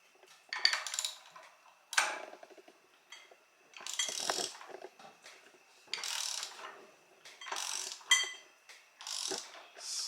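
Supercharger pulley work on a 2014 Ford Shelby GT500, with a series of close metallic clinks, scrapes and ratcheting bursts coming in irregular short clusters against near silence.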